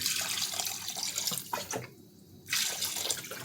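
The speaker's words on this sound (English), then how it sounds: "I'm gonna wash this with some vinegar and lime" Running tap water splashes steadily over oxtail being washed with vinegar and lime in a kitchen sink, dipping briefly midway before the flow surges back.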